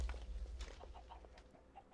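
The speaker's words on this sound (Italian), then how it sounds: "E io t'ammazzo i polli!" Chickens in the Minecraft video game give a few short, quiet clucks in quick succession, heard alone without talk.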